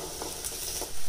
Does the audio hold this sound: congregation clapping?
no